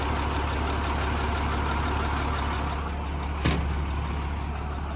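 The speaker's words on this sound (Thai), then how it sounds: "วันนี้จะเป็นเครื่องมิซูหกสูบนะครับ" The Mitsubishi six-cylinder engine of a Hidromek MG330 grader idles nearby, a steady, even, low rumble with a faint knock and one brief clatter partway through, with no talking.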